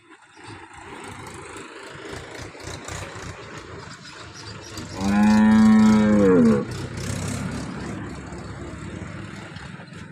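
A single long, loud cow moo rises over a low engine rumble and background murmur at a local cattle market in Banaskantha, close by, lasting about a second and a half.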